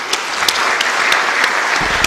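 An audience at a university international conference claps in appreciation, a loud, steady and dense round of applause with a few sharper individual claps standing out.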